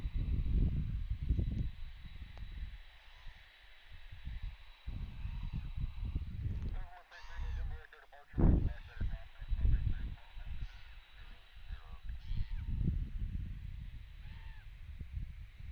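Several birds honk and call loudly back and forth over outdoor background noise at Anchorage airport, Alaska, with irregular bursts of raucous calls.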